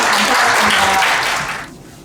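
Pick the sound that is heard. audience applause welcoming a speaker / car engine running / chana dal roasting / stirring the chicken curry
audience applause welcoming a speaker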